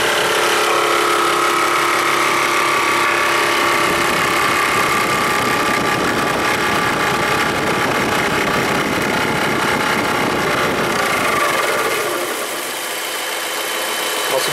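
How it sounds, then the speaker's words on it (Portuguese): Car engine running with its radiator fan rubbing against the exhaust manifold heat shield, a loud steady whirring and rough scraping drone close up, easing off near the end. "Nosso ventilador tá encostando no defletor de calor do coletor de escape dele aqui"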